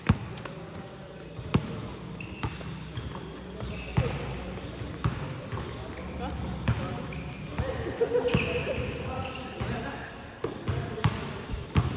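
A basketball bounces repeatedly on an indoor court during an intense game, sharp irregular thuds mixed with sneaker squeaks and crowd noise while a commentator talks excitedly throughout.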